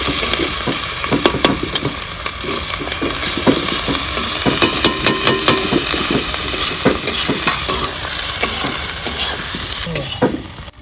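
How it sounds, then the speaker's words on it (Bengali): Onion and spices are sautéed together in a pan in a village kitchen. A loud, busy sizzle runs throughout, broken by rapid repeated scrapes and knocks of the spatula stirring, with no voices. "পেঁয়াজ আর মশলা একসঙ্গে কষা হবে।"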